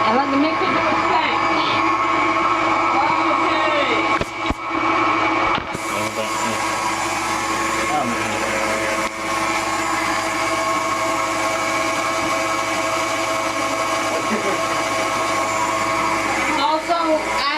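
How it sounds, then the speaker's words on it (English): A blender-style mixer whips chocolate mousse pie filling with its lid locked on, a loud steady motor whir running throughout with brief dips near the start while a voice talks over it. "let the mixer do its thing"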